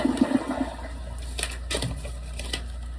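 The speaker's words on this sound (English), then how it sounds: "We're gonna flush it multiple times." A newly replaced toilet flushes close by, a rushing swirl of water that drains away, with a few brief clicks and knocks near the start and no talking.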